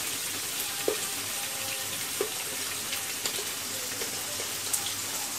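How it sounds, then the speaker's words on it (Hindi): Four onions frying in hot oil in a pan for a Konkani tomato curry, a steady close sizzle with a few faint clinks and stirring touches, no talking. "अभी हम इसमें कांदा डाले, ये चार कांदा है।"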